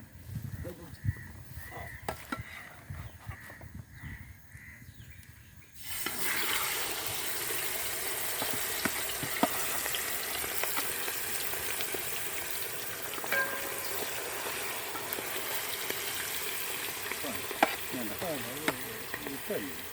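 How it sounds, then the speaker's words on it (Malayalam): Chicken drops into hot fat in a pan for a coconut-milk chicken dish, and a loud broadband sizzle suddenly bursts out and holds steady after a quieter stretch with faint handling sounds and some background voices. "അപ്പോൾ നമുക്ക് ആ ചിക്കനെ ഇട്ട് കൊടുത്തൊന്ന് ഫ്രൈ ചെയ്യാം"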